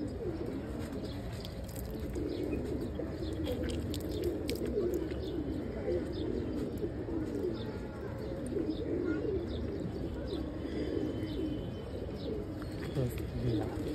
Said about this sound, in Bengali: এই যে কবুতরটা দেখেন